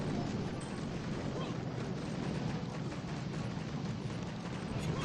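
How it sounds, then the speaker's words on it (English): An artillery strike in the Boom Beach mobile strategy game rumbles as a steady, dense low roar of explosions and blasts lasting several seconds, with no clear separate hits and some speech underneath. "Let's use artillery."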